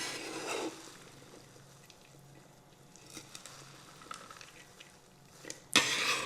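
Tabbouleh of bulgur with fresh vegetables and mint being stirred in a bowl, soft wet squishing and scraping at low level, with a sharper clatter near the end.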